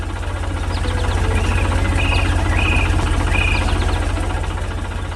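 An animated green and yellow tractor runs in a workshop: a steady, loud, low engine drone with a fast regular throb, continuous throughout with no talk.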